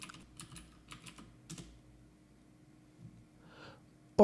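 Soft, close keyboard keystrokes come in a few short bursts, then pause, followed by a couple of isolated taps in a quiet room as a password is entered on a computer.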